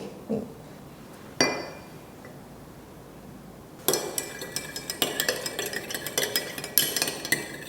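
A spoon stirs a cocoa blended-drink mixture in a glass, first a couple of isolated clinks, then a quick run of rhythmic clinking and scraping against the sides, close and fairly loud.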